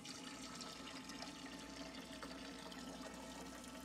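A battery-powered replacement pump for a parts washer, submerged and pumping water, making a steady, continuous splashing flow like a running tap, fairly quiet and alone without talk.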